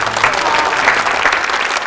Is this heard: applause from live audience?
yes